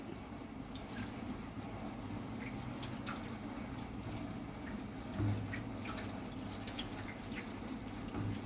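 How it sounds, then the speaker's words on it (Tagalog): Water being added to a roasting pan of chicken for lechon manok, a steady pouring trickle and drip that runs continuously close by. "lagyan ko siya ng tubig dito para hindi siya sunog kaagad."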